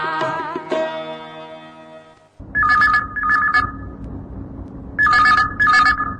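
A telephone rings in two pairs of trilling electronic bursts, loud and close, after a brief fading musical tone at the start.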